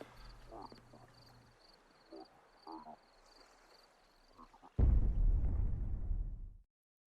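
A sudden loud explosion from the Dave the Diver video game erupts after several seconds of quiet game sounds and chirps, a deep rumbling burst that holds for about two seconds before cutting off.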